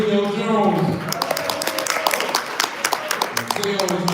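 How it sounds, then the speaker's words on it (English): A round of applause at a community tea with trustees, greeting Commissioner Sandra Wells: dense, crackling clapping from a crowd fills the middle seconds, with a voice talking before and after it. "Give a round of applause."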